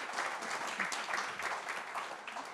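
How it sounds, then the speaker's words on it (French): Audience applause at a conference on workplace gender diversity in the French construction sector, sustained clapping from a room of attendees at moderate loudness, with no voices on top. "Aujourd'hui, tout le monde est applaudi"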